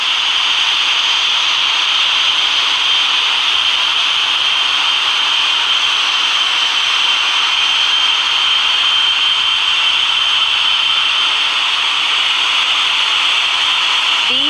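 Boeing 777-300ER jet engines spooling on a takeoff roll in the RFS flight simulator game, a steady, loud broadband roar holding evenly throughout without a break.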